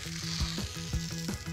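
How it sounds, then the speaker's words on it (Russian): Butter sizzles in a frying pan under a pizza, a close, steady crackling hiss with a faint rhythmic thumping underneath. "Масло начинает плавиться, попадает под пиццу снизу и начинает как бы тесто немножко жарить"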